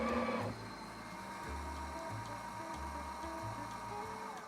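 A Breville espresso machine tamping the coffee puck, a quiet rhythmic mechanical whir and ratcheting hum repeating in short regular pulses after a brief louder opening.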